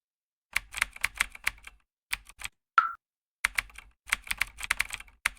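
Computer keyboard keys are typed in close, crisp bursts of rapid clicks separated by short pauses. A brief tonal boing-like blip is heard partway through, and no one speaks.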